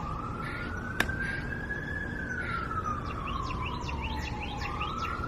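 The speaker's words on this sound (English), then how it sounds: "That's another police car." A police car siren wails steadily through the whole stretch, its tone slowly rising and falling as the vehicle speeds past over loud road and traffic noise, with birds chirping faintly in the background.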